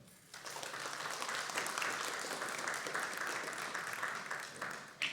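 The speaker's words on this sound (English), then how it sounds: "please give a big round of applause for Melody Templeton" An audience applauds Melody Templeton at a Bethany Happy Hearts event, steady full clapping that rises quickly and holds at an even level for about five seconds, with a brief louder burst at the very end.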